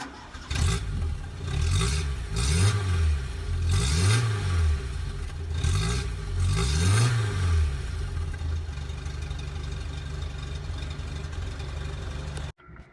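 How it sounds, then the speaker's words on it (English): A 1970s SEAT 127 (a rebadged FIAT 127) small car engine revs up repeatedly, pitch rising and falling with each gear change, then settling into a steady drone before cutting off. "We're going to go up through the gears so you can hear what she sounds like."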